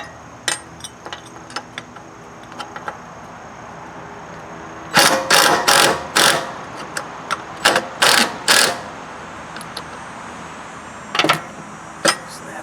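A ratchet loosens the idler pulley bolt on a Troy-Bilt Horse 46-inch riding lawn mower: scattered light ticks, then a cluster of close, sharp ratcheting bursts, and a couple more at the end.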